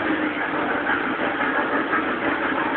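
A small mall ride train's engine runs with a steady, close, rough idling drone and mechanical rattle, continuous and fairly loud with no talking.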